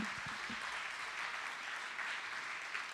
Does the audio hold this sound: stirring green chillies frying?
no